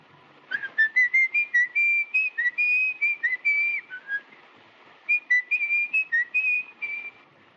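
Clear melodic whistling from the soundtrack of the 1931 film M, a rising and falling tune in short phrases with a brief pause midway, close and alone.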